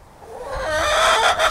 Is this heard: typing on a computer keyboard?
no